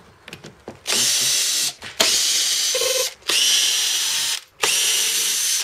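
A power tool unscrews 30 Torx screws on a VW Passat B5 tail light, whirring loudly in three sustained bursts separated by short pauses, with a few faint clicks before the first run.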